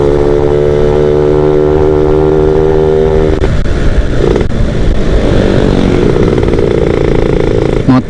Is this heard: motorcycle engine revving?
yes